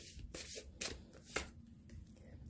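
Tarot-style cards shuffled and drawn up close, with a few sharp papery flicks and slaps spaced irregularly over a quiet background, soft and intimate, without speech.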